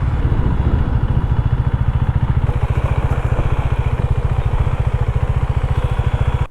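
A KTM 390 motorcycle engine idles close by with a steady, rapid thumping pulse, loud and alone without any voices.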